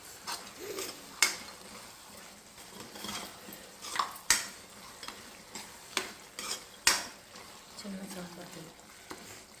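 Chilli powder and coriander-cumin powder are stirred into a cooking pumpkin dish, with repeated sharp scrapes and clinks of a spoon against the pot over a soft, low sizzle.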